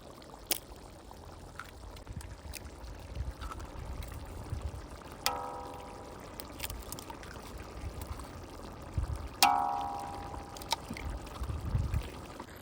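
Liquid poured while village-style goat lung gravy is cooked, a soft trickle and splash under low background noise, with a couple of brief clinks standing out midway and near the end.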